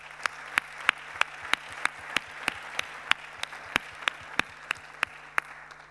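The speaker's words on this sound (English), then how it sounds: "The 3 of them deserve a warm round of applause for their hard work over the past year." At a global conference session, evenly spaced claps ring out in a slow, regular beat, about twenty distinct smacks over several seconds, fairly close and clear over a quiet room.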